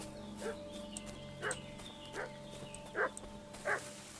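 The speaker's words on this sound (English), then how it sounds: "What's that dog making such a fuss about?" A dog barks in the medieval game Kingdom Come Deliverance II, about five separate woofs spaced roughly a second apart, moderately distant over a steady low ambient hum.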